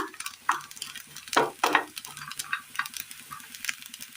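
A grated carrot mixture for a sweet snack roasts in a pan while a spoon stirs it nearby. Uneven scraping strokes run over a soft sizzle, with a few louder swishes. No one speaks.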